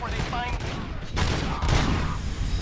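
Gunfire rattles through a firefight in RoboCop: Rogue City, with dense overlapping shots and bursts continuing steadily for a few seconds amid game background sounds.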